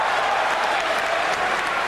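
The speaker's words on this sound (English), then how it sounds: "Crowd gets excited as Byrd mounts a rally" A boxing crowd roars and applauds excitedly as a fighter mounts a rally, a dense, steady wall of cheering and clapping that fills the whole moment.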